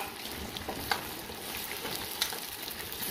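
Sweet potato (kamote) frying in a pan, a steady close sizzle with faint crackles running throughout and no talking.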